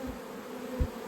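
Honey bees hum around an open hive full of capped brood and honey frames, a steady close insect drone with two brief low thumps, no talk.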